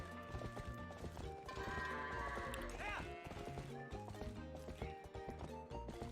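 Goats run in the video game Zelda: Twilight Princess, their rapid hoof clatter and bleating cries mixed with steady game music at a low level.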